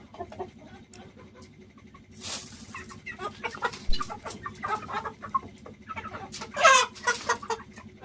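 Several chickens cluck and chatter close by, in irregular bursts that grow busier and louder toward the end, over a low background hum.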